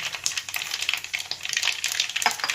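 Close, steady crackling and sizzling of fenugreek and mustard seeds frying in hot oil, with dense popping bursts and no voices.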